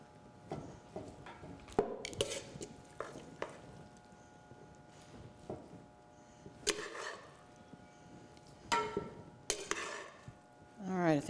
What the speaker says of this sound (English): We're going to put it into a beautiful serving dish here.